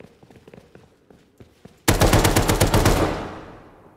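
Automatic gunfire in the video game Rust, a loud rapid burst lasting over a second that trails off, preceded by light footsteps and clicking.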